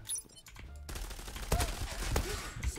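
An M468 rifle fires in the online shooter Zula, sounding as dense, continuous bursts of gunfire with sharp report peaks through a busy, loud game mix.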